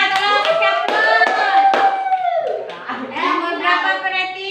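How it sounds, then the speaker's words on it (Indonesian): Children in a classroom clap their hands together in applause for a group, steady and close, with kids' voices and chatter mixed in throughout. "Tolong kasih aplaus."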